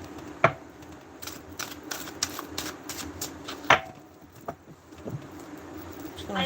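Tarot cards being shuffled by hand, a series of soft papery riffles and taps with a sharper snap now and then, close and fairly quiet, without speech.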